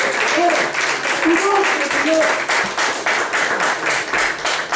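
A church congregation claps along in worship, a steady rhythmic patter of many hands under voices that shout and talk over it.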